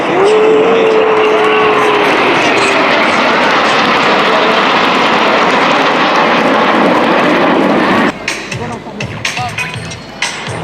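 A Patrouille de France aerobatic jet roars past at an air show with a loud, sustained, broadband rush that cuts off sharply, leaving quieter crowd and ambient noise at the end.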